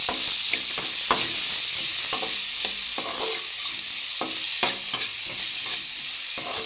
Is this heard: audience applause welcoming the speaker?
no